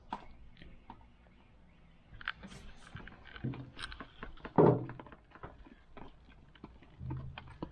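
Epoxy resin being stirred by hand for a boat bilge repair, a series of soft scraping taps and knocks from the mixing stick against the container, irregular and close, with one louder thunk midway.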